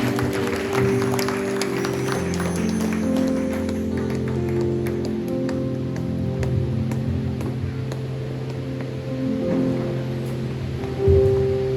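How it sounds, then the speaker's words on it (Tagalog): Loud congregational applause during a Sunday church service, a continuous rain-like wash of clapping over sustained low worship music, lasting throughout with no talking. "isang malakas nga pong palakpak para sa mga taong pinalaya at may pananampalataya para sa ating Panginoon."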